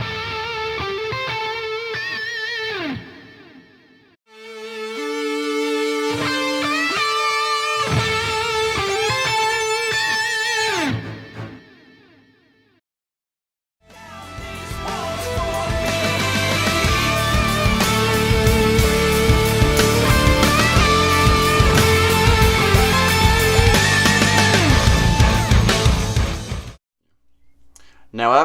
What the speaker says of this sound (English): the end of that section where the keyboard and guitar both play high notes